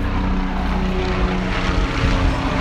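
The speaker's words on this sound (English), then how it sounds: "sponsored by a helicopter." A helicopter flies overhead, its steady engine roar and low rotor thump filling the space loud and close, with no talking.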